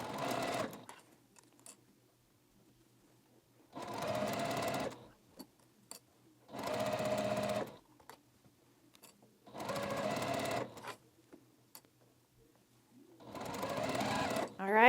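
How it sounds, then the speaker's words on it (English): A sewing machine stitches a quarter-inch seam on chain-pieced fabric quilt blades in five quick bursts of fast rhythmic whirring, separated by quiet pauses with faint handling noises. "we can take these all over to our sewing machine and we're just going to sew a 1/4 inch seam right along that top flat edge"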